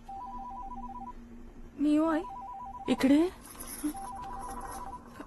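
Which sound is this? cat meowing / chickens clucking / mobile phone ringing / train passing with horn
mobile phone ringing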